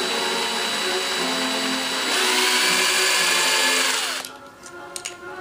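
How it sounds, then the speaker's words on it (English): A power drill whines steadily, rising in pitch as it bores a hole in an old toy playset, then winds down and stops with a few small clicks. "Now I'm gonna drill a hole in it"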